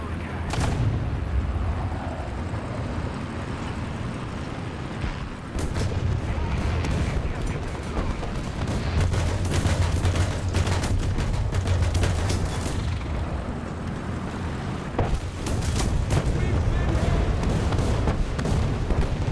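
Tank cannons fire repeatedly in Dying Breed, an indie real-time strategy game in the style of Command and Conquer, with dense booming shots and rumbling blasts across a continuous battle din.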